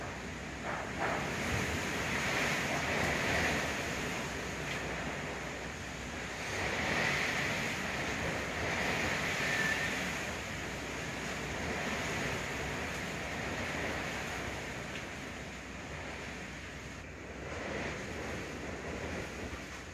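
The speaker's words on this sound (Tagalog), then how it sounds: "Grabe, lakas ng hangin." Strong wind blowing at night during a power outage, a steady broadband roar that swells and eases in gusts, with no voices.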